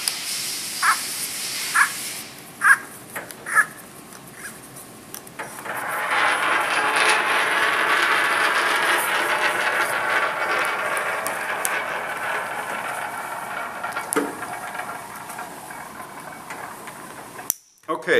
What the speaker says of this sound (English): this is an audible type torque wrench where you tighten it until you hear the click